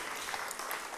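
A church congregation gives a brief round of applause during a sermon, a soft, distant, continuous patter of clapping with no talk.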